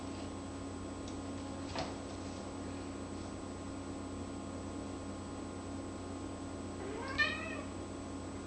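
A cat meows faintly twice, once early and once near the end, over a steady low household hum.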